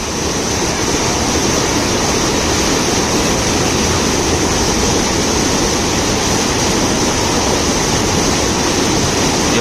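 Rushing, surging river water where people catch fish by hand, a loud, dense and unbroken roar that stays constant throughout.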